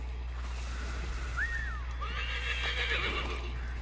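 A horse whinnies twice in quick succession, shrill and mid-distance, over a steady low rumble of background noise.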